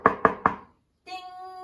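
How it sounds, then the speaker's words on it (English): Three sharp, evenly spaced knocks on a green door, close and clear, followed after a short pause by a sustained electronic doorbell chime. "this time they knocked and rang the bell"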